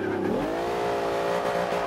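Car engine downshifting through a curve in Forza Horizon 2, a loud, close revving whine that rises in pitch and then holds steady, with tire noise underneath.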